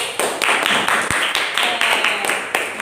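Clapping from a classroom audience after a student group presents on the Rafflesia arnoldii flower, a dense, steady patter of many hands lasting a few seconds at moderate loudness.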